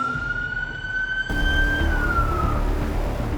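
Emergency vehicle siren wailing during a wildfire evacuation, a single rising and falling tone sweeping steadily and fairly loud over a rumbling background, with no talk.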